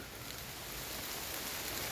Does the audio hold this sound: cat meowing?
no